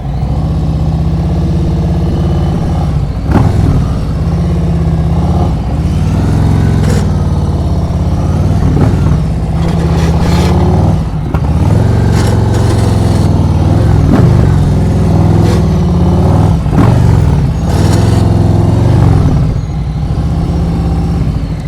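A motorcycle engine runs steadily close by during slow-speed riding practice in Florida, its low rumble swelling and easing with repeated throttle blips and revs over about twenty seconds, with no talk over it.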